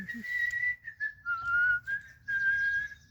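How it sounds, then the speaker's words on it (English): A person whistles a clear, sustained melody in several long, wavering phrases separated by brief pauses. "I am constantly whistling. Oh, the whistle."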